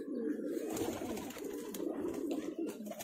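Domestic highflyer pigeons, including a white Malwai female, coo in a continuous low throaty murmur that runs loud and close throughout, with several birds overlapping and no talk.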